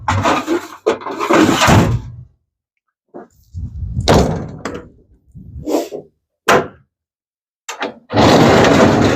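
Several heavy-duty slide-out drawers in a utility truck body slide open and shut with rumbling runs and solid thunks, separated by short pauses.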